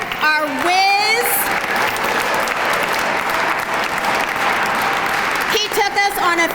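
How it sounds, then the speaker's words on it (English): Audience at a school musical performance of The Wiz breaks into loud, sustained applause that fills the hall, with cheering and voices at the start and end. "Let's give another round of applause to Isaiah, our whiz."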